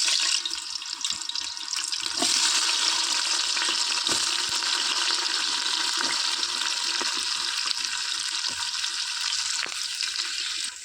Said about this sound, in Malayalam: നെയ്യും ഓയിലും ഒഴിച്ചിട്ടുണ്ട് നന്നായി ചൂടായിട്ടുണ്ട് കേട്ടോ ബിരിയാണി വെക്കാൻ വേണ്ടിയിട്ടാണ് ചൂടായതിന് ശേഷം നമുക്ക് പച്ചമുളക് കൊടുക്കാം